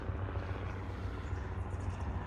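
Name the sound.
helicopter flying overhead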